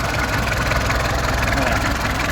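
A rebuilt Mazda car engine idles steadily up close, a loud continuous rumble without pauses.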